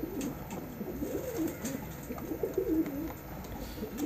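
Golden and teddy pigeons coo from a breeder's loft, soft murmuring calls repeating throughout under low background noise, fairly close and steady.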